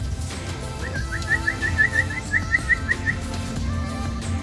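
Birds locally called marijuana birds, said to have red eyes, whistle a quick series of bright repeated chirps along a river safari, a dozen or so clear notes in a row over low boat-engine rumble.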